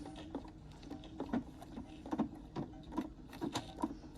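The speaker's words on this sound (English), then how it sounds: "I have it on slow and I am just going to stitch around, making sure that I back stitch at the beginning and the end." A sewing machine on its slow setting stitches around a piece of paper, giving a faint, quiet, rhythmic thumping and whirring at an even, unhurried pace.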